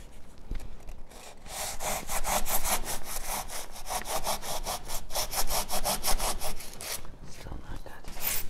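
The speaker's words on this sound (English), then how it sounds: "find the middle and just start sawing" A hand saw rasps back and forth through a garden stake in a quick, steady run of close strokes, loud and rhythmic, pausing briefly near the end.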